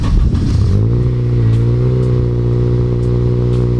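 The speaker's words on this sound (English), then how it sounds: "Cold start for the boys." A Subaru WRX engine fires up from cold, starter cranking briefly before the engine catches and revs loudly, then settles into a steady, rough, close idle drone.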